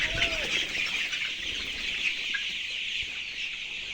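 Broiler chickens cluck inside a poultry shed, a dense chorus of soft clucks and chirps with occasional wing flaps, moderately faint and continuous.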